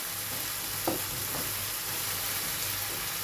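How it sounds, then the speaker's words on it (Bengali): Pigeon meat sautéing in a pan for curry gives a steady, loud, close sizzle and crackle throughout, with a couple of faint stirring knocks. "তাই আমি চেষ্টা করি রান্নাটা একটু সময় ধরে কষাতে।"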